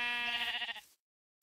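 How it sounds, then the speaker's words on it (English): A single sheep in a Minecraft-style space game gives one clear, wavering bleat up close, lasting under a second before cutting to silence, with no talk over it. "This sheep is legally blind. This sheep is blind."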